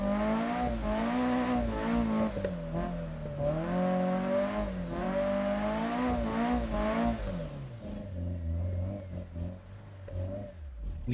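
A Toyota Corolla drives across a frozen lake in a drifting video game, its engine revving and rising and falling steadily up close, then easing to a lower idle-like drone near the end.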